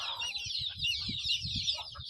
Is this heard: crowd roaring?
no